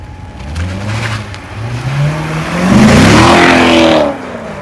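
A Lamborghini Huracán supercar engine revving up close, a deep growl that rises in pitch through several blips, swells into a loud high-revving roar, then drops away abruptly.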